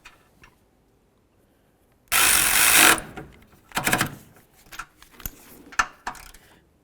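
Ratchet tightening a mounting nut onto a camshaft position sensor on a Dodge Journey, a burst of rapid clicking followed by several shorter ratchet runs and metallic clinks, close up.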